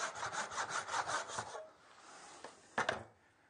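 Handsaw cutting wood for a DIY horse saddle stand, a rhythmic series of rasping back-and-forth strokes up close, then a pause and a couple of final scrapes, with no voices.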